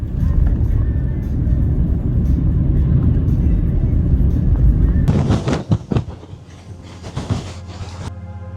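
A car driving on a Scottish island, a loud steady low engine and road rumble for about five seconds, then doors and clunks give way to a quieter idling hum with scattered knocks.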